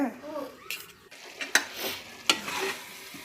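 Tomato gojju cooks in a pan with a soft, continuous sizzle, broken by a few sharp scrapes and knocks of a spoon stirring against the pan.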